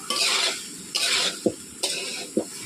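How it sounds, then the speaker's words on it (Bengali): Chickpeas and potatoes frying in a pan, stirred in three rhythmic bursts of scraping sizzle, each followed by a clunk of the spoon against the pan, close and fairly loud. "কাবুল ছোলা আর আলুগুলো আমি 5 মিনিট কষিয়ে নিচ্ছি ভালো করে"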